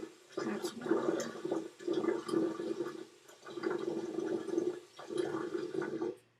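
Water splashes and gurgles in repeated bursts, about five pulses with short pauses between, close and fairly quiet.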